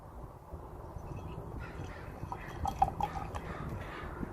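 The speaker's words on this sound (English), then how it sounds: "So let's give her a pour." Homebrewed Tenacity EPA craft beer poured into a glass, a quiet liquid trickle with faint dripping and small glassy clinks, heard alone.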